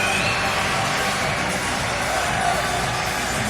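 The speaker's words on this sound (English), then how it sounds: "A big round of applause, as you can imagine." An arena crowd at the Teqball World Cup doubles bronze game between Romania and Brazil cheers and shouts as the teams come out, a dense, steady roar with whoops and yells and no clear break.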